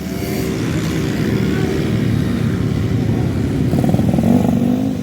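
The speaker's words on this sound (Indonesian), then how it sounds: "Sebagian besar motor tampak sudah dimodifikasi untuk meningkatkan kecepatan" Modified motorcycles in an illegal street race on Jalan Sabang, a continuous loud engine drone with a rising whine near the end, under faint background voices.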